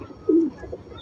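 A racer pigeon gives one short, soft coo near the start, alone against a quiet, faintly noisy background.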